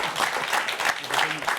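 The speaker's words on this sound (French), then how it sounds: "on peut les applaudir quand même" Studio audience applauding contestants on a quiz show, a steady patter of clapping across the whole moment with no voices over it.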